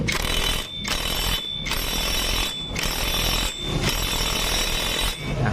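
A power tool rattles in several loud bursts with short pauses between them, tightening the CVT pulley on a 2020–2021 Honda Beat scooter, close up and with no talk.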